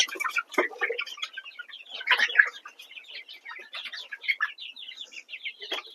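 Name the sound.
chickens clucking on a poultry farm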